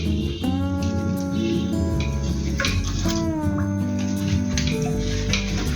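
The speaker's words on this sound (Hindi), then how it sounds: "पानी मैंने पैन के अंदर डाल लिया। ये पालक अंदर डाल देंगे।" Water running and splashing as washed spinach leaves go into a pan of water, a steady close pouring sound with some clinks and a low hum underneath.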